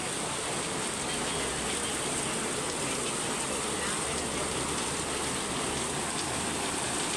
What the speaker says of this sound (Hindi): ये देखिए अब बारिश भी देखिए कैसी तेज़ हो रही है।